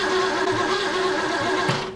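An engine cranks over steadily during a fuel pump test, with a sustained whirring drone and a faint regular chug beneath it, loud and close, tapering off at the very end.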